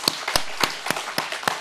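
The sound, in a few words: audience clapping at church event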